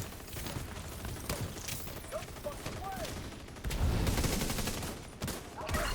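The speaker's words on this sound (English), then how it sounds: "It's so hard to shoot that thing with a shotgun." Shotgun fire in a video game shooter, blasts booming over a dense, continuous din of other gunfire and mechanical clatter, growing louder toward the end with no one talking.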